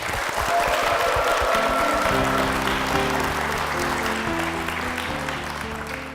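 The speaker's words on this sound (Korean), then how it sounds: "우리 담임 목사님과 교회를 위해서 힘찬 박수 부탁드리겠습니다" A church congregation breaks into loud, sustained applause that holds for several seconds while music rises softly underneath, the clapping thinning slightly toward the end.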